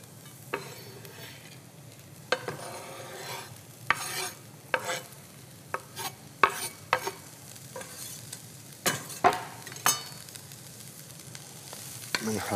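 Onions being stirred in a frying pan while cooking for a chicken dish with thyme and beans: a steady sizzle with repeated scraping spoon strokes, close and moderately loud, with no talking.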